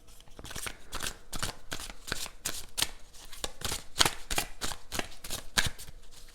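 A deck of tarot cards is shuffled again and again, giving a rapid run of crisp riffling bursts, close and clear, with no talk over them.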